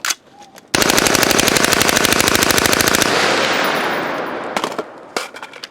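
An LMT rifle fires a long, loud, close-range automatic burst of rapid shots that ends abruptly and fades into ringing echo, followed by a few more short bursts.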